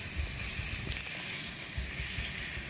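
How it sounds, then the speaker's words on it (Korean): Minced garlic sizzles steadily in sesame oil in a hot pan used for Korean namul side dishes, a continuous close frying hiss with light stirring crackle and no talking. "마찬가지로 참기름에 마늘을, 간마늘을 좀 볶아주시고"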